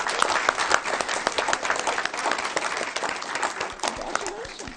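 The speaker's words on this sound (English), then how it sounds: "let's give one more round of applause for our winning BC Charles archery team" Applause for a winning school archery team at a school board meeting: dense, steady clapping from a room full of people, sustained throughout at a fairly even level.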